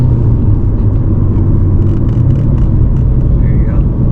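A 425-horsepower Dodge Challenger SRT8 with a manual gearbox, driven by a learner, gives a steady, loud, low engine rumble inside the cabin, with no sharp rev spikes and faint voices in the background.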